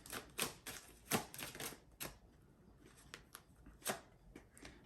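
Tarot cards being shuffled and laid down during a reading, a run of crisp papery flicks and slaps, some close and fairly loud, with quieter rustling between them and no talking.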